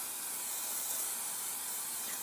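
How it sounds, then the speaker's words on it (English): Cooking spray is sprayed onto a baking pan in a home kitchen, a steady close hiss that runs unbroken and fairly loud for a couple of seconds with no talking. "spray that pan"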